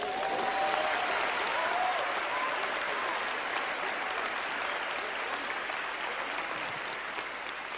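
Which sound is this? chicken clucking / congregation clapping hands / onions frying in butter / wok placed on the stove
congregation clapping hands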